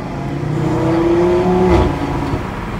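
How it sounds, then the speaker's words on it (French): A car engine revs with its exhaust valves open, giving a loud, close, sustained throaty drone that rises slightly in pitch and then settles, with no talk. "Le régime est un peu plus élevé, les échappements, les valves se sont ouvertes et maintenant elle est plus taquine."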